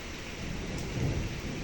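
Steady rain pours down in a dense, even hiss, with a low rumbling undertone running beneath it throughout.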